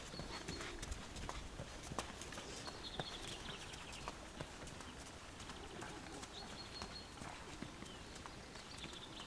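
Horse hooves clip-clop steadily while the horse is ridden in an arena, taking a curve before moving onto a straight; the regular hoofbeats are close and clear, with faint birdsong in the background.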